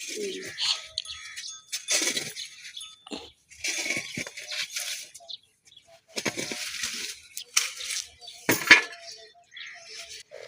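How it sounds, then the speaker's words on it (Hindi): Metal dishes and utensils handled and set out at home, bursts of clinking, scraping and rattling in short clusters with gaps between, close and fairly loud. "ये बर्तन वगैरह सब सेटिंग पे लगा दो,"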